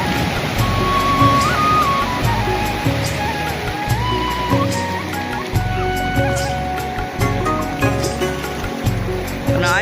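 Sea waves washing against the shore at Veraval near Somnath, where fishing boats are moored: a continuous, fairly loud rush of surf with low rumbling pulses and faint tonal hums mixed in.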